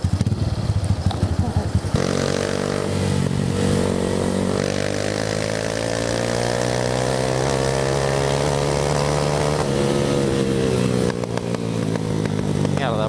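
A Honda Titan 190cc motorcycle is ridden at low, steady speed: a continuous deep engine drone with the pitch rising and falling slightly through the run and a rattling burst near the start, close and loud.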